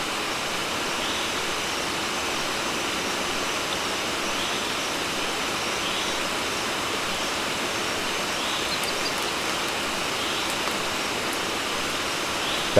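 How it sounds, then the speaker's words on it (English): Loud, unbroken rush of a Borneo stream tumbling over rocks, a dense roar that stays constant throughout. "the deafening rush of water"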